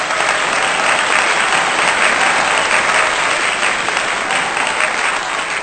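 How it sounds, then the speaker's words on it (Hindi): Loud, dense applause from an audience at a welfare organization's stage program, a continuous close wash of many hands clapping that holds steady without a break, with no talk. "यार इस आयशा के लिए भरपूर तालियां।"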